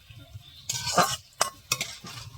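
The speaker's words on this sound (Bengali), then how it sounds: "এখন একটু হালকা করে কষিয়ে নেওয়া হবে" Marinated snake fish being lightly sautéed in a pan for a spicy curry, with brief scraping stirs and clinks of utensil against the pan over a soft, low sizzle.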